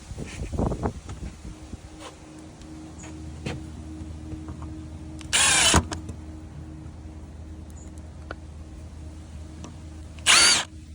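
A power drill driving screws into brackets for DIY deck privacy shutters: two short, loud whirring bursts a few seconds apart, with quiet knocks and handling sounds between them.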